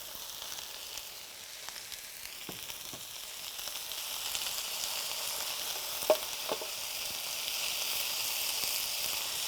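Corn and spinach cook in a pan with a steady, soft sizzle, punctuated by a few brief scraping or stirring clicks; no one speaks.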